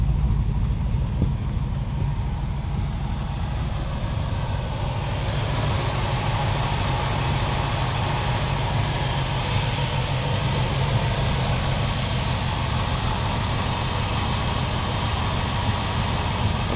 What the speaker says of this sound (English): The 455 is idling really smooth, it's purring like a kitten.